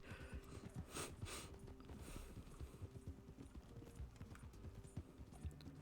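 Horse in Red Dead Redemption 2 trotting with steady clip-clop hoofbeats throughout, with a few soft snorting breaths mixed in; close and fairly loud, no talk.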